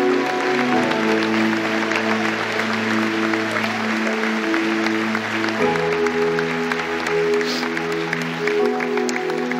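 A church congregation applauds steadily throughout, a dense wash of clapping blended with sustained keyboard or organ chords that shift pitch partway through.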